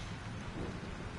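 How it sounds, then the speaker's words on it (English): Rain pours and thunder rumbles low in a video game storm, a dense steady wash of rainfall over a deep rolling background, with no voices. "This storm is real."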